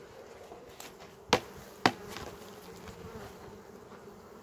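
Honeybees at an open hive during a spring inspection give a faint, steady buzz, broken by two sharp knocks close to the microphone.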